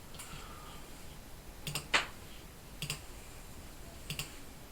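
A few sharp computer mouse clicks, spaced out singly and in quick pairs, sound close and crisp over a quiet background while someone works in the Canvas Workspace desktop software.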